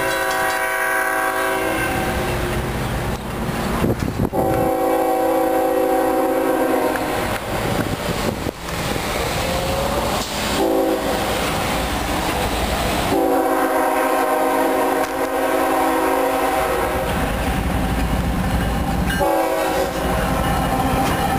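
A Norfolk Southern freight train led by a Conrail heritage locomotive sounds its loud multi-tone horn in several long blasts, interspersed with the rumble and clatter of passing locomotives and cars close by.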